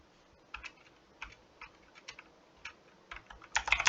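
Keys clatter on a computer keyboard in short, irregular bursts, close and fairly quiet, ending with a louder flurry of taps.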